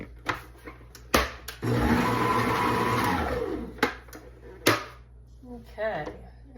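Stand mixer whirring through donut dough for about a second and a half, a steady motor hum with a slight pitch rise, framed by sharp clicks and knocks of handling before and after, brief talk near the end.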